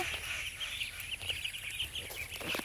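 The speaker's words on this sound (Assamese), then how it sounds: "তাহাঁতক অকণমান ঘাঁহনিত এৰি দিছোঁ, কিন্তু সিহঁতি ভয়হে কৰিছে।" A flock of about forty-six chicks, fifteen or sixteen days old, is let out onto grass and peeps constantly in high, overlapping cheeps at moderate distance.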